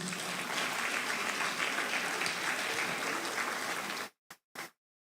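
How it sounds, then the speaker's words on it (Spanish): Loud, sustained applause from a large church congregation, dense and steady for about four seconds, then cutting off abruptly with a couple of short bursts. "Denle un fuerte aplauso al Señor Jesús."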